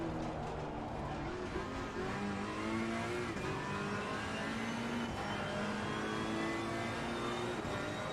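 A Ferrari GT race car in Assetto Corsa Competizione accelerates out of a corner at the Hungaroring, its engine note climbing steadily and loudly through the revs in one continuous, close roar.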